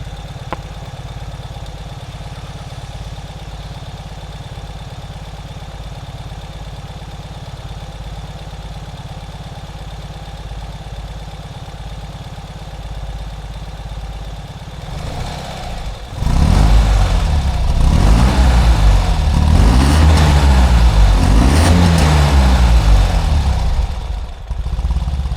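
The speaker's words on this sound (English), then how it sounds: "Now that the engine warmed up, we can give it a couple of revs." A warmed-up 2022 Ural Gear Up Heritage motorcycle engine idles with a steady low throb, recorded close to the engine, then is revved several times in rising and falling bursts before settling back.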